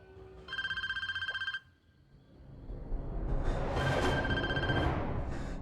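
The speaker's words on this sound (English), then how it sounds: "Answer the phone" Telephone ringing in the movie Scream (2022): a single electronic ring burst, then a pause, then a second ring rising under a swelling rumble of noise and music.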